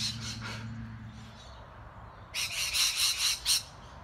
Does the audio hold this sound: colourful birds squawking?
yes